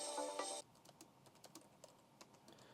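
Fingers typing on the metal-bodied keyboard of a MacBook Pro, a quiet, irregular patter of light key clicks that follows a brief louder burst at the start.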